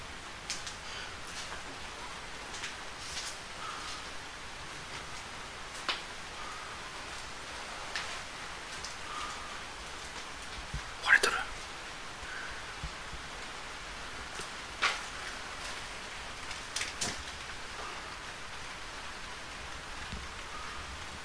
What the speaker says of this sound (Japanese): 雨漏りか。